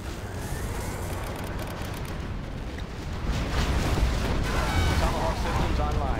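A cruise missile launch in the video game C&C Generals Zero Hour: a dense, loud roaring rumble that swells partway through and then sustains.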